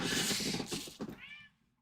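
A cat meows close by in a short, drawn-out whining cry that fades out at the end, with no one speaking.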